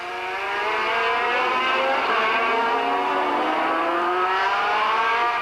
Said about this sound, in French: Encore plus chaud, le freinage de Chiesa pour dépasser Deletraz